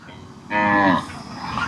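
A Kangeyam breed cow moos once, loud and close, with a long harmonic call at an evening cattle market in Kannapuram, followed by quieter background noise.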